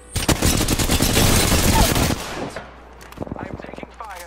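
Apex Legends gunfire in a duos match, a loud sustained burst of rapid automatic shots for about two seconds, then sparser scattered shots and clicks as the volley trails off.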